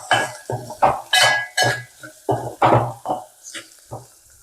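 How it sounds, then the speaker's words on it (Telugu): Broad beans with turmeric and salt are stirred in a pan, heard as about a dozen rhythmic, close scraping strokes of a spoon against the pan with brief pauses between them. "తర్వాత నీట్గా కలిపేసుకోవాలి."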